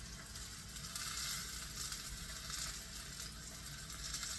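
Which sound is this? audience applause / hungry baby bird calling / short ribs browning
short ribs browning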